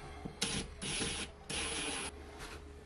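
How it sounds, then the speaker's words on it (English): A screw is driven into a wall with a power driver during inverter installation, heard as three short whirring bursts separated by brief pauses, close and fairly quiet. "I'm going to put in this bottom screw first because that'll hold it in place while I do the top screws."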